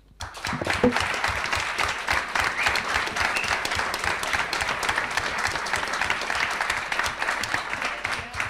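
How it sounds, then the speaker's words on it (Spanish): Sustained applause from a large audience at Xbox FanFest 2015, many hands clapping densely and evenly for several seconds, loud and close. "el último aplauso lo pido para todos vosotros."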